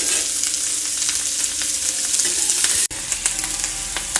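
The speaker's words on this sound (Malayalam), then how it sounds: "നമുക്ക് നല്ലോണം മിക്സ് ചെയ്ത് കൊടുക്കട്ടോ. ഈ സവാളയ്ക്ക് ഒന്ന് വഴന്ന് വരണം." Sliced onions for a cauliflower masala sauté in a pan with a loud, dense, steady sizzle, with faint utensil scrapes as they are stirred and one brief dropout near the end.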